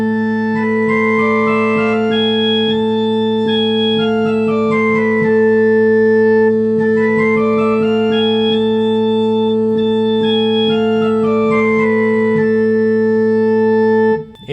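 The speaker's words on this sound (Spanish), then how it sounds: "Escuchamos cómo sería la escala armónica" A harmonic minor scale climbs and descends twice in steady, evenly spaced notes above a held bass drone, clear and close, cutting off at the end.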